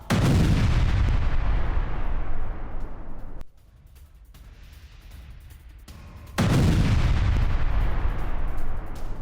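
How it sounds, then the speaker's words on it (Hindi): Russian artillery bombardment on the front in Donetsk, with sustained heavy firing that roars loudly, drops to a low rumble for a few seconds, then resumes at full strength. "रूस यूक्रेन फ्रंट से ये वो तस्वीर है, जहां डोनेट्स्क में रूस कैसे बड़े हमले को अंजाम दे रहा है"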